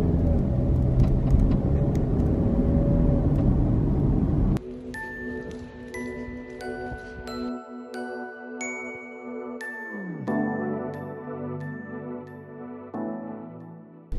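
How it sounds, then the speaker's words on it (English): A car on the move gives a steady low road and engine rumble for the first few seconds, then the driving noise drops away and music fills the rest. "Let's get in the car and get going."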